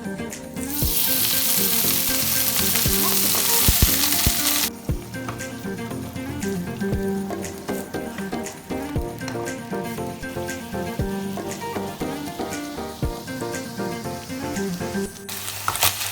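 Meat fries in an oiled pan with a loud, steady sizzle that later settles into a crackling spatter with sharp pops, close and continuous.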